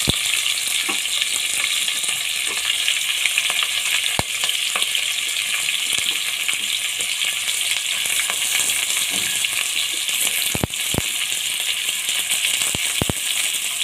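Onion and green chillies frying in oil for chicken biryani make a loud, dense, continuous sizzle with frequent crackles and a few sharp metallic clicks from stirring, close and unbroken, with no talking.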